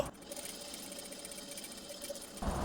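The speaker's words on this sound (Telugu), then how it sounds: "కరెక్ట్గా మనం కార్నర్ చూసి పైపింగ్ క్లాత్ని ఎక్కడ కూడా లూస్ అనేది వదలకుండా సూది కిందకి పెట్టి కుట్టుకుంటూ రావాలి" Sewing machine running steadily while stitching thread piping around a star-shaped neckline, a continuous whirring hum close by that lasts throughout and briefly rises in level at the end.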